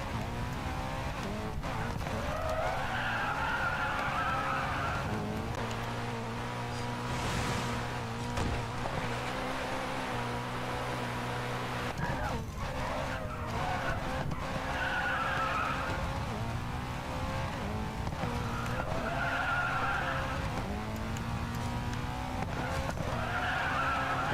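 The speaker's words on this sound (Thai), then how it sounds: "React quickly if the car spins and countersteer immediately." A race car in the Racing Master driving game revs hard with repeated rising engine sweeps and long tire skids, a loud, continuous roar with no talking.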